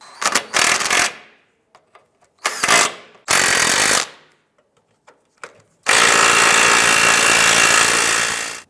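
A power tool snugs down bolts on the sway bar of a 2001-2005 Honda Civic: several loud, close bursts of whirring and hammering, ending in one long sustained run.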